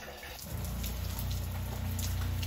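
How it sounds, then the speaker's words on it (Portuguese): Hot shower water running inside a Kombi van parked in a garage, a steady broadband hiss of spray that swells up after a brief quieter start and continues close and constant. "ele vai tomar um banho rapidinho lá na Kombi, porque na Kombi nosso chuveiro é quente"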